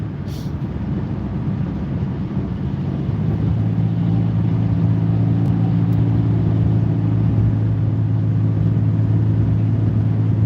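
A car cruising in the left lane of a busy multi-lane road, with a steady loud engine and tyre rumble that builds slightly and then holds constant throughout, with no talk.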